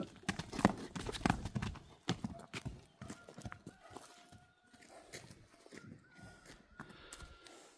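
A young horse foal's hooves clip-clop in an uneven series of steps, louder and closer at first, then lighter and softer, with no talk over them.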